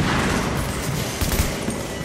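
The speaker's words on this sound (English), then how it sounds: "Grenades." Grenades explode in a video game firefight, a dense loud rumble of blasts and gunfire with heavier booms rising near the middle.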